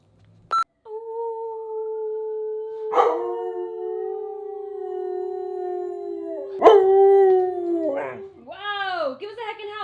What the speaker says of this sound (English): Give us a heckin' howl.